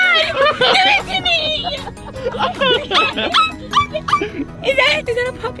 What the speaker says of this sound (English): Is there puppies in this car?